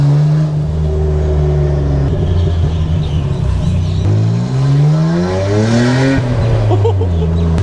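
A Nissan Skyline R34 GT-R running with its muffler removed, a loud raw exhaust drone rising and falling through gear changes as it drives, close and continuous, with faint voices underneath.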